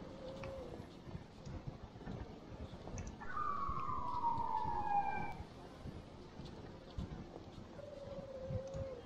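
Ambulance siren in the Emergency 4 emergency-services video game, a clear wailing tone sweeping about two seconds midway, with a fainter siren tone near the end, over steady background game ambience.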